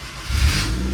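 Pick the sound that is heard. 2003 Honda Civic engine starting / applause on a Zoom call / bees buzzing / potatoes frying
2003 Honda Civic engine starting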